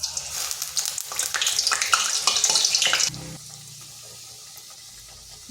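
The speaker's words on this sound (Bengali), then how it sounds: "এখানে কড়াই বসিয়েছি, তেল গরম হয়ে গেছে। এরপর এগুলো দিয়ে দিচ্ছি।" Semolina and yogurt snack pieces dropped into hot oil in a wok, giving a loud, dense close-up sizzle for about three seconds before it falls to a quieter, steady bubbling hiss.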